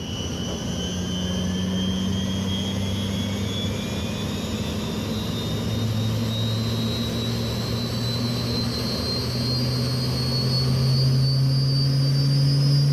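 An aircraft engine runs loud and close with a steady roar and a high whine slowly rising in pitch, continuous throughout with no talking.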